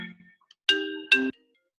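A phone ringtone sounds two sustained electronic tones in a row, each lasting about a fraction of a second, clear and fairly loud in an otherwise quiet room, after a brief low murmur.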